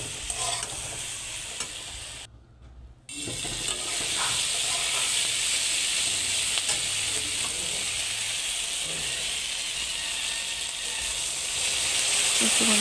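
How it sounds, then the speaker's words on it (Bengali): Spice paste (masala) sautés in a pan with a splash of water for a fish-head and cabbage dish, giving a steady close sizzle with scraping stir strokes and a brief drop near the start. "সমস্ত কিছু দিয়ে মশলাটাকে একটু ভালো করে কষিয়ে নেব"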